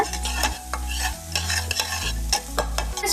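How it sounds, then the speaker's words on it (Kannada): Onions roasting in butter in a pan give a steady close sizzle, with repeated scraping strokes from stirring and a low hum running underneath, no voices. "ಇದು ಸ್ವಲ್ಪ ರೋಸ್ಟ್ ಆಗ್ಬೇಕು ಈರುಳ್ಳಿ, ಅವಾಗೆ ಚೆನ್ನಾಗಿ ಬರುತ್ತೆ."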